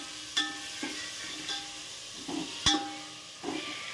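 Diced tomatoes sautéing in a pan with browned onion for Malvani chicken sukka: a spoon scrapes and stirs in about six separate strokes over a low, steady sizzle, with no talking.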